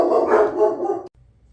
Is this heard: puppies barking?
yes